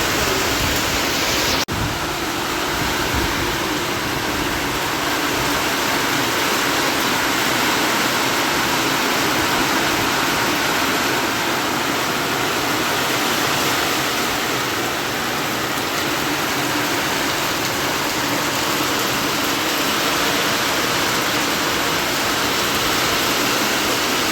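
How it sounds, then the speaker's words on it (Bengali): Heavy monsoon rain pours down around a rooftop, a loud, steady, dense roar that continues unbroken throughout with no voices. "এতটাই জোরে বৃষ্টি হচ্ছে"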